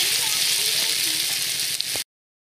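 Brinjal and potatoes frying in a pan with turmeric, a steady close hiss and sizzle running for about two seconds before cutting off abruptly.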